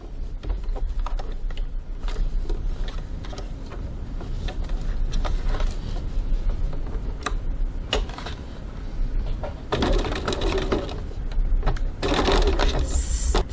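A sewing machine stitches a seam at a 2.4 stitch length, its motor whirring and clattering nearby in steady runs, with brief slowdowns and clicks of handling between stretches.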